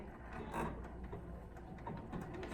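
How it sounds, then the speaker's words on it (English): A domestic sewing machine running a zigzag stitch along a kimono jacket seam, a steady close mechanical whirring with quick clicking needle rhythm, moderately quiet and continuous throughout. "So I'm going to find zigzag, which is 4 on here, drop my presser foot, and I'm going to zigzag"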